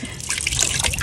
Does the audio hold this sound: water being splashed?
yes